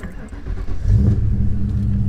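An autocross race car's engine cranks and catches, then settles into a loud, close, steady idle with a low rumbling tone.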